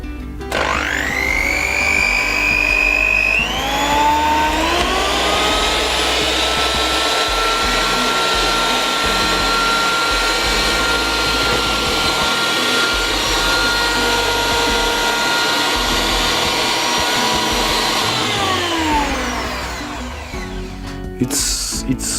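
A SilverCrest SHMS 300 C2 hand mixer, a 300 W Lidl model, switched on and spinning up with a rising whine to a loud steady motor hum, then winding down near the end.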